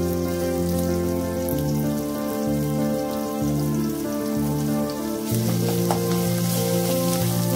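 Curry leaves and ginger garlic paste frying in oil, a loud close, constant crackling sizzle with a steady hum underneath, growing a little harsher toward the end.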